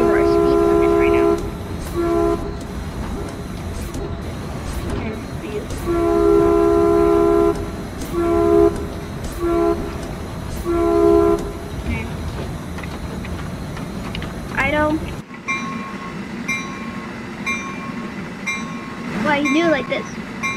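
Caltrain in the Train Sim World video game rumbles steadily along the rails, with repeated horn blasts sounding in bursts early on, loud and close, and a shift in tone partway through.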